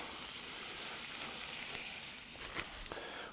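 White wine poured into a hot pan for a shrimp and veal sauce gives a steady, loud sizzle throughout, with a few sharper crackles toward the end and no talking.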